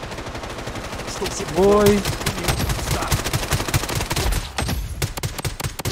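Rapid dual Glock pistol fire in the shooter game Blood Strike, a fast, dense stream of sharp shots with a brief tonal effect partway through, while a player talks over it.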